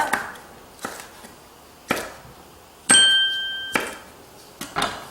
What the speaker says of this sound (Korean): 청고추, 홍고추도 어슷썰기로 썰어주세요